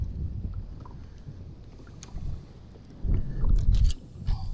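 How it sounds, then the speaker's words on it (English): Wind buffeting a microphone outdoors while bass fishing from a boat on a very windy spring day, a low rumbling roar that swells in gusts, with small bumps and knocks on top. "It's so stinking windy."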